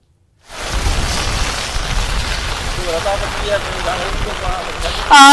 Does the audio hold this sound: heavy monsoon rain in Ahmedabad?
yes